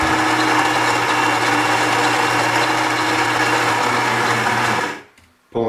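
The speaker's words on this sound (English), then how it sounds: "So first, grinding our beans." The built-in grinder of a Gaggia Brera super-automatic espresso machine grinds coffee beans with a loud, steady, high-pitched whir for about five seconds, then cuts off abruptly, followed by a brief click.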